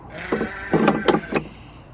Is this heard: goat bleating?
yes